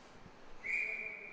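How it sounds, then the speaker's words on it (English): A referee's whistle sounds at an adult league ice hockey game before a puck drop, one sustained shrill blast rising over faint rink ambience and holding to the end. "Blow the whistle, get ready for the puck drop."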